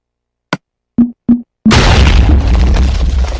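Minecraft castle cannons on Xbox 360 fire three short, sharp pops in quick succession, followed by a loud sustained rumbling explosion that fills the rest of the moment with noisy crackling debris.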